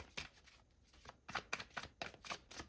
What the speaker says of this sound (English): Let me get a little more shuffle.